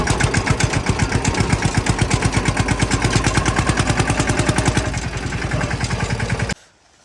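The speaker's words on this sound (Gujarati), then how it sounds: "ધીમે ધીમે ટ્રેક્ટર લઈને જઈએ છીએ" A tractor drives slowly along a farm track, its engine thudding in a fast, regular beat, loud and close throughout, before cutting off abruptly near the end.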